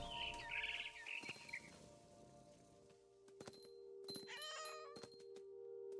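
Cat meowing and caterwauling in the video game What Remains of Edith Finch, a few drawn-out wavering cries and some bird-like chirps standing out over a quiet ambient hum, with no talking.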